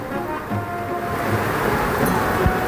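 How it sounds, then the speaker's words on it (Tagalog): Strong wind roars and buffets steadily in a low, rushing wash, with no one speaking. "lakas pa ng hangin"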